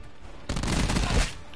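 A quick burst of sniper and automatic gunfire in the shooter game Black Ops 4, a dense rattling volley of about a second, moderately loud with no voices.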